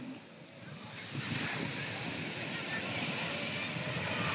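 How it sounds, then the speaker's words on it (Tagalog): Sea waves on the shore at Morong, Bataan make a steady, broad wash of surf that swells slightly louder partway through, mixed with wind buffeting the microphone. "Ito ang dagat ng Morong Bataan."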